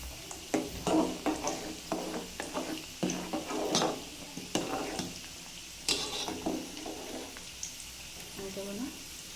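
A spoon stirs masoor dal with pumpkin, tomato, salt and turmeric in a pot, making repeated scraping strokes over a low simmering sizzle while a voice talks in the background.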